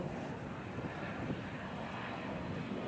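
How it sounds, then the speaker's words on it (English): A continuous broadband roar of a jet airplane passing, steady and moderately distant, with no breaks and no talking. "there's another commercial plane"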